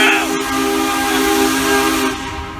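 A steam locomotive moving slowly along a railway sounds a loud, sustained whistle with a strong hissing steam tone, close and continuous, trailing off toward the end.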